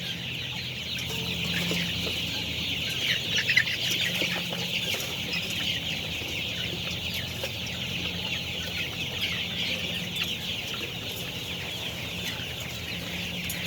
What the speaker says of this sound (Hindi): दोस्तों ये चूजे हैं।